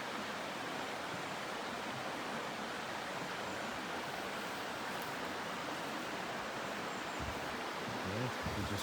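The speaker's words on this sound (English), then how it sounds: "We're coming to the underside of the waterfall so you can see it from above, from below." A waterfall and stream in the Lake District give a steady, dense hiss of rushing water, moderately distant and unbroken, with a few low thumps near the end and no voices.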